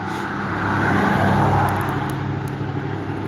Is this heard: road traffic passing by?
yes